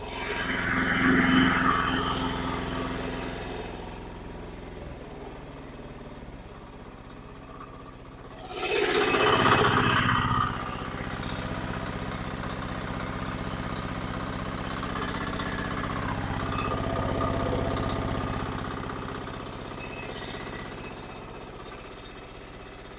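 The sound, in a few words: Husqvarna TF545DE diesel tiller engine being started manually in frost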